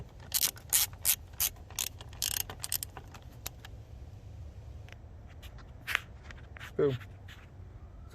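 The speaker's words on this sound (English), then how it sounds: "Screwdriver attaches to the ratchet." A ratchet with a screwdriver attachment turns on a BMW E39 528i, giving bursts of quick clicking pawl ratcheting up close, then quieter intermittent clicks and handling noises.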